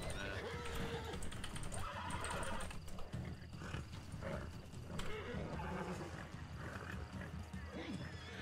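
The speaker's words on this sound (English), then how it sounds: "Can you control your horse before we both get hurt?" Horse neighs and whinnies in a Western-style video game, mixed with busy game action, hoofbeats and other animal noise, while people talk over it throughout.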